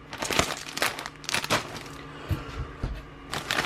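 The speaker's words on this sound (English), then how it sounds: "They package them in little plastic bags." Plastic bags holding homebrew beer kit ingredients crinkle and rustle in several irregular bursts close by, handled one after another with short quiet gaps, no speech.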